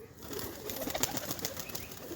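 Pigeons coo close by on a rooftop as they come down to feed, soft repeated calls over a faint rustle of background noise.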